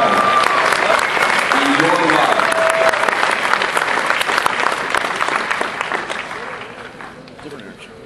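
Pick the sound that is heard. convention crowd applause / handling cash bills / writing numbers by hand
convention crowd applause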